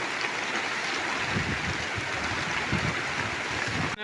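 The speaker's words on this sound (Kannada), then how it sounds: "ಮಳೆ ಇನ್ನೂ ಬೀಳ್ತಾ ಇದೆ" Heavy rain falling outdoors with wind, a dense steady hiss and patter filling the whole span, close and loud, no voices.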